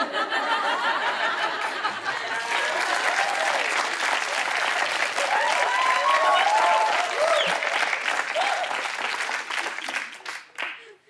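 Studio audience of a comedy show breaking into sustained, loud applause and clapping with bits of laughter mixed in, dense and even for about ten seconds before thinning out at the end.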